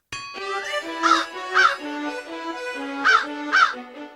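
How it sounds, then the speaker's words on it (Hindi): A cartoon crow caws loudly four times in two paired bursts, close and clear over a sustained musical tone. "देखिए हुजूर, ये कौवा कैसे काव काव कर रहा है।"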